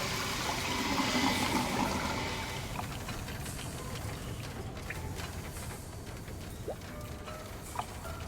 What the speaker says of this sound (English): Turn it off, shut the water off.